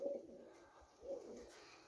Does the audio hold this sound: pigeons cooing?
yes